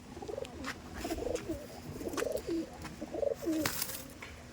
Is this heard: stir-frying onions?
no